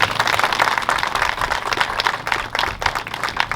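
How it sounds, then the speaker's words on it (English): Dense, steady applause and clapping from a crowd at a Kinloch news conference, loud and continuous with small swells and dips throughout. "Please give them both a round of applause."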